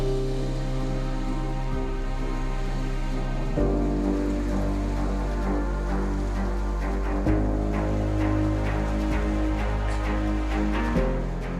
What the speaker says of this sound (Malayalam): മഴ കനത്തു പെയ്യുമ്പോൾ ഇവിടെ വെള്ളം ഒഴുകിയെത്തുന്നു